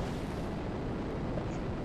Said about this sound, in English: That's quite a bomb